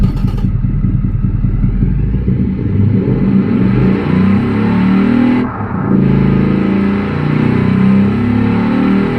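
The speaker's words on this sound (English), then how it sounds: "let's give the engine a little listen" Loud, close car engine in the Automation video game revving hard for about nine seconds, with rising and falling pitch and a rough, clattering exhaust tone, a brief dip near the six-second mark, no talking.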